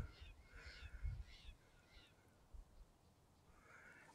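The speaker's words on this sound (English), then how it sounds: "And you can hear the birds." Birds calling along a Southern Oregon hiking trail, a few short, faint cawing calls spaced out over quiet outdoor ambience.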